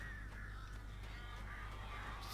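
Crows caw in the horror game Alan Wake, several harsh calls repeating at a steady pace over a constant low hum, moderately loud with no voices.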